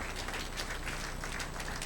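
A church congregation applauding during a bilingual Spanish-English service, sustained dense clapping at a steady level throughout, moderately distant and filling the room, with no speech over it.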